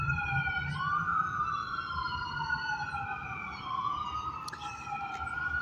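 A wailing siren rises and falls continuously, fairly clear at moderate distance over a low rumbling background.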